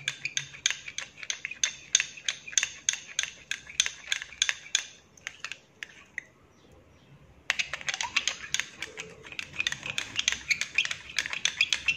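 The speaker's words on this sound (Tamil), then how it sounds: "ஸோ நல்லா மிக்ஸ் பண்ணி விடுங்க." A utensil stirs red wine and water into a gel face wash, producing quick, crisp clicks and scrapes against the container in a steady rhythm, with a short pause midway before the stirring picks up again.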